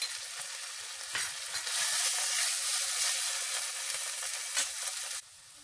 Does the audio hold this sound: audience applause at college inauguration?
no